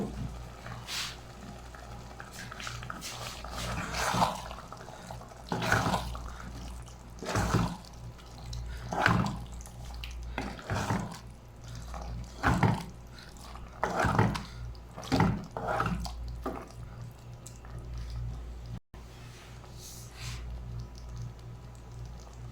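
Black-eyed bean cooking water poured into a pan of masala and stirred in, heard as a run of repeated wet scraping and clinking strokes at moderate volume, close by, with no voices.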